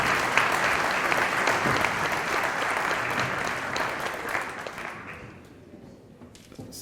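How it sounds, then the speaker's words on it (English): An audience applauds Dr. Richard Maponya at his annual lecture, a dense, steady round of clapping that carries for about five seconds before thinning out and fading away. "Let's give him a round of applause."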